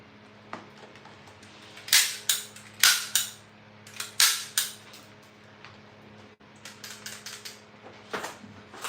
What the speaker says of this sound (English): this obviously is a staple gun